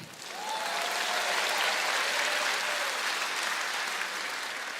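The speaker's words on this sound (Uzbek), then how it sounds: "Bemalol qarsak chalib tabriklab qo'ysanglar bo'ladi." A concert audience at a comedy show gives sustained applause. The dense clapping swells within the first half-second and holds steady throughout, with a couple of faint whistles over it.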